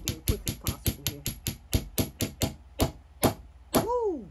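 A hammer strikes a copper ring on a steel ring mandrel in a quick run of sharp metallic blows, which slow and space out toward the end and finish with a ringing tone.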